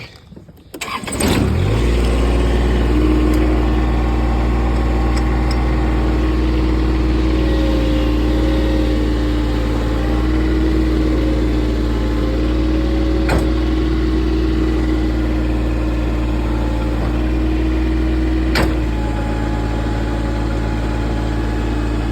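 A 1500 lb lawn tractor engine starts with a sharp catch and then runs steadily and loudly nearby at a constant drone, with a few brief clanks over it.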